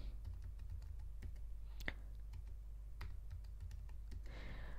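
Light, uneven clicks of keys on a Mac computer keyboard as a password is typed, soft and close against a low steady hum, with a few sharper taps and a brief rustle near the end.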